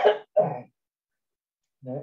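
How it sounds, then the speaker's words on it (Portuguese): Two quick coughs from one person in a quiet room, short and close together, followed after a pause by a brief spoken sound. "Hoje começou a voltar a tosse."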